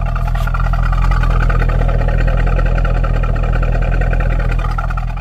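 A 2002 Corvette C5 convertible with an exhaust bypass idles steadily, a deep, even engine rumble held close and loud throughout with no revving or voices.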